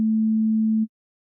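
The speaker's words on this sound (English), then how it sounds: "That's a sine wave." Pure, steady sine tone from an analog oscillator, one clean low-pitched hum held for under a second, then cut off sharply, with no other sound.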